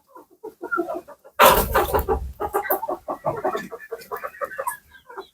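Andijan black chickens and roosters clucking in a flock, many short overlapping clucks and calls at close range, with one louder burst of squawking partway through.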